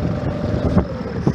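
A small boat motor drones in stormy wind on the Amur river, its low steady hum buried under heavy, loud wind buffeting the microphone, with gusts rising and falling throughout.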